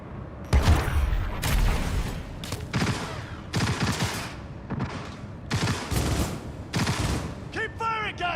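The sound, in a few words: gunfire in a video game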